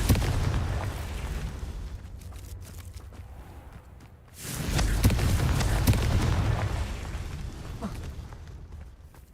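Heavy low booms from Confringo fire spells in Hogwarts Legacy roll through a rumbling game soundscape, swelling into a louder sustained blast midway and then fading, with no talking.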